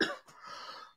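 A single harsh cough, then a rough throat-clearing rasp, heard up close from a man who has just been smoking.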